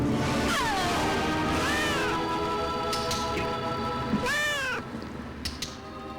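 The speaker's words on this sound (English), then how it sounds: "In the Disney movie Hocus Pocus, witches turn a boy into a cat." A cat meowing in a scene from the Disney movie Hocus Pocus: three or four loud, drawn-out, wavering meows close by over a steady musical background.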